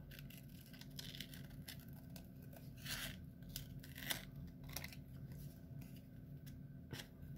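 Scissors snip through paper for a pocket letter craft, a steady run of close, crisp cuts with a continuous rasping texture and a few sharper snaps, heard alone without talk.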